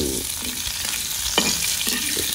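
Red chillies fry in oil in a pan for coconut chutney, a steady close sizzle with a few stirring scrapes and clinks of a spoon against the pan.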